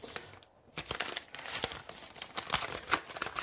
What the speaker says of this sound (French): on va sortir les papiers